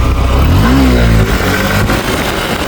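A low-displacement motorcycle engine revs hard as the throttle is twisted, the pitch sweeping up and then falling back. The revving is loud and close over a steady engine drone, with no talking.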